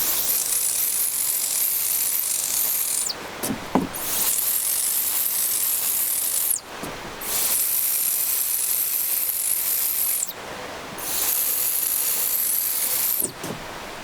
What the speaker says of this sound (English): if you spray wood ash over the outside of it